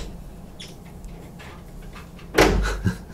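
Kittens hang on and rattle an indoor door handle. After a quiet stretch, one loud, close clattering burst comes, followed by a smaller knock.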